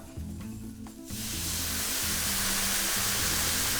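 Water poured into a hot pan of toasted spices bursts into a loud, steady hissing sizzle after a brief quieter moment, with soft music underneath, while cooking Thai five-spice braised chicken wings.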